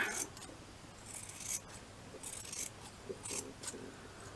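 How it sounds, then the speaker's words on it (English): Quiet, close scissor snips cut circles out of chiffon fabric in an uneven run of short strokes, with soft rustling between cuts. "So I'm just going to cut the circles out."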